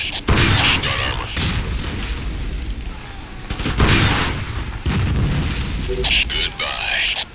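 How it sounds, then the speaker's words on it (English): A tank exploding in the video game Ghost Recon: Desert Siege, heavy booming blasts that recur as loud broadband bursts, close and forceful, with voices in the mix. "Tank destroyed."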